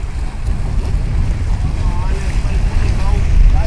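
Wind and choppy waves on Lake Balaton during a yellow-code storm warning at a carp fishing competition, a loud steady rushing roar with heavy wind buffeting the microphone throughout.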